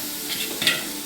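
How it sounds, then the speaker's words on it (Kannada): Masala spices fry in oil for vegetable pulao, a close, steady sizzle with a soft stir or scrape in the middle of the short stretch. "ಎಲ್ಲ ಸ್ವಲ್ಪ ಎಣ್ಣೆಯಲ್ಲಿ ಫ್ರೈ ಆಗಬೇಕು"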